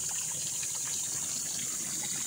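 Natural spring water wells up from the ground beside a river on a farm lot, a steady, continuous close rush and trickle with no pauses.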